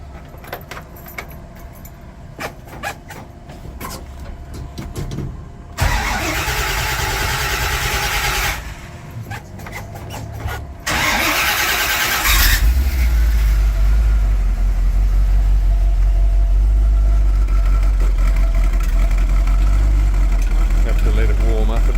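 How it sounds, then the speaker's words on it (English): 1969 Holden HT GTS Monaro 350 V8: keys jangle first, then the big starter cranks and the engine catches, settling into a loud, steady, deep idle that fills the rest of the clip. "There we go, the big starter."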